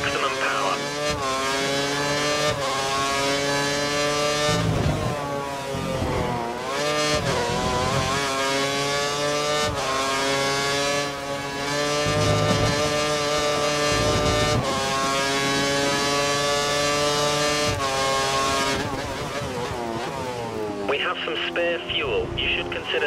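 Formula 1 car engine from the F1 2013 racing game at the Catalunya circuit, a loud sustained high-pitched whine held at full revs with brief dips for gear changes, running steadily throughout the clip.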